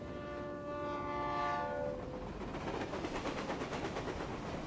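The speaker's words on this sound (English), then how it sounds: "And why is the stupid train never on time?" Train horn blaring in the Reverse 1999 video game, sustained tones for about two seconds over a rumbling arrival, then rhythmic wheel clatter and rolling noise as the train pulls in, loud and close with no voices.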